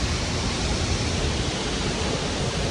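Silver Falls waterfall pours over a huge cave overhang, a loud, continuous, broad roaring wash of falling water that fills the space evenly with no voices.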